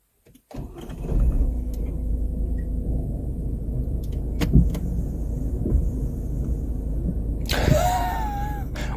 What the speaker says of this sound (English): Let me power on the motor.